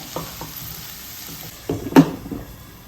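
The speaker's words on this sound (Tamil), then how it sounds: "கேரட்டு பீன்ஸை நல்லா மசாலாவோட கிளறி விட்டு இதை ஒரு 2 to 3 மினிட்ஸ் குக் பண்ணுவோம்." A spoon stirring carrots and beans with masala in a pan over a low flame, close scraping and a couple of louder clatters over a soft sizzle, with no talking.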